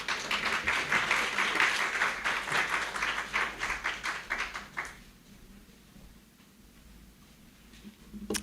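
Audience at an awards ceremony applauds in a thick burst of clapping for about five seconds, then the noise drops away and the clapping trails off to near quiet.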